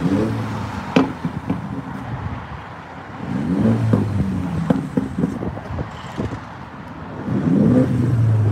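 A 2022 MINI JCW engine revs repeatedly, rising and falling in loud bursts close by, with sharp clicks and a rough idle between the revs.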